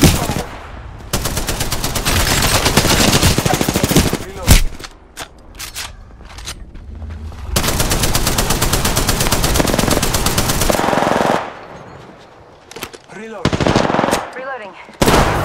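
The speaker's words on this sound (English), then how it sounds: "I'm getting shot at." Sustained automatic gunfire from a PC shooter game rattles loudly in long bursts, broken by short pauses, with scattered single shots and faint footsteps between volleys.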